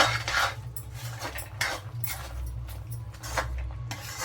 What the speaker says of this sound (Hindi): अब इनको अच्छे से मिला देंगे।